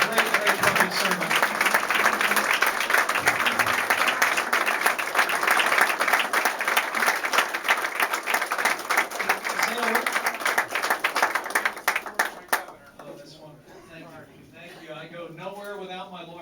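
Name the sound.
audience applause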